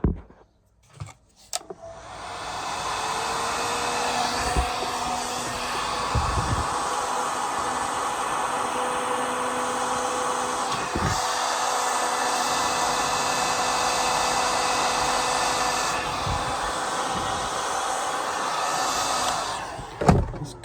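A heat gun blows hot air in a steady, continuous whoosh for most of the stretch, framed by a few clicks and knocks at the start and end, with no talk.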